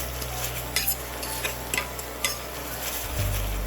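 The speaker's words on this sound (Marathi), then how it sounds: "आता इथं मी स्मॅशरच्या मदतीनं सर्व काही घातलेले जे इन्ग्रेडियंट्स आहेत ते बारीक करून घेतलेले आहेत." Tomatoes and other ingredients being mashed with a masher in a pan for spicy masala tomato pasta, a series of soft, irregular scraping and squishing strokes, close and steady, with no talking.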